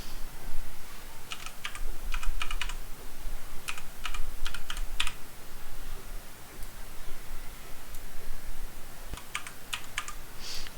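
Typing on a computer keyboard, bursts of quick clicky keystrokes up close in clusters separated by short pauses over a steady background hiss, no voices.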